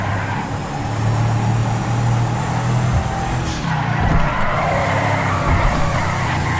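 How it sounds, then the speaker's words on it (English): A standard BJ car in the video game GTA revs and drives with a steady engine drone, tire squeal and skidding mixed in, loud and close throughout with no talk. "This is how the standard BJ sounds."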